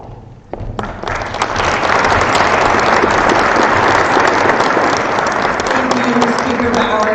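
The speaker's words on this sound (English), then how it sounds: "let's all give a big round of applause to Elijah and Marjorie for all that they've done" A crowd at a town celebration ceremony for the purchase of a high school bursts into loud, full applause after a brief quiet start, many hands clapping steadily and strongly throughout.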